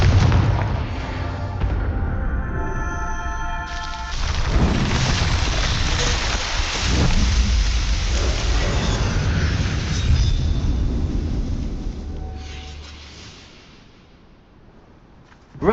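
Heavy booming blasts from the Confringo fire spell in Hogwarts Legacy, dense rumbling explosions rolling for many seconds over a sustained roar before fading away near the end.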